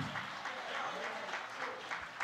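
A church congregation applauds and stands during a sermon, a short burst of moderate crowd clapping heard with a voice talking over it.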